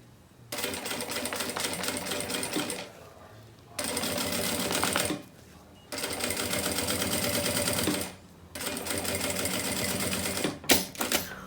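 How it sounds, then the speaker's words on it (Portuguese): A sewing machine stitches seams on a silicone beach bag in three long, steady runs of rapid mechanical whirring, separated by short pauses, ending with a few quick clicks. "Faço uma costura aqui na parte de cima e depois passo outra costura embaixo."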